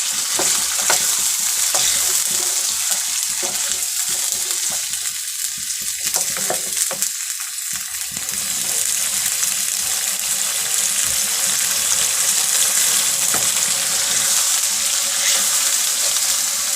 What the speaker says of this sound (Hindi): चिकन को अच्छी तरह भून लिया है।